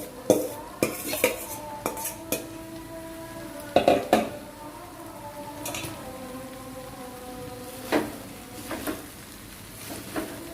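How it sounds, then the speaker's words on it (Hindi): Leftover cooked rice for vegetable fried rice goes into a pan, with repeated metal spoon clinks and scrapes against the pan over a soft sizzle, loud and close, no talk. "ये बाकी के राइस डाल रही हूँ मैं।"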